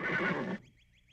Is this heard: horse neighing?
yes